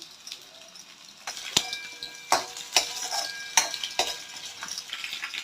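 Garlic sautés in oil in a pan, a soft steady sizzle broken by sharp clinks and scrapes of a spoon stirring against the metal at irregular intervals.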